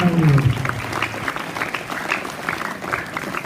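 Audience applause for a speaker at a school event, a dense steady clapping from a crowd that starts loud and carries on at an even level.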